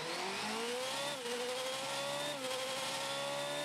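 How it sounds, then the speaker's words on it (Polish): Formula 1 car engine in the Rocket League video game, a high-pitched whine that revs upward, dips briefly and climbs again, loud and steady with no talk. "No i dźwięk silnika."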